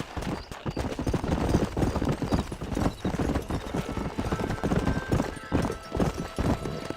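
A horse galloping in the Red Dead Redemption video game, with steady rapid hoofbeats running throughout alongside game music and occasional voices.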